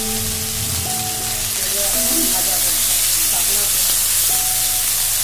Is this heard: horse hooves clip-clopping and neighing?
no